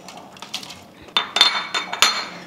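About 300 grams of dry fruits for a rum-soaked plum cake tumble into a mixing bowl, giving a close cluster of sharp clinks and rattling bursts that land in quick succession.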